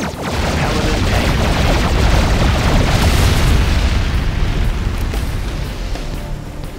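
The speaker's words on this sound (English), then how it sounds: "It's a particle cannon activated." A particle cannon blast in the C&C Generals Contra strategy game: a loud, sustained roaring boom with crackling bursts that swells and then slowly fades.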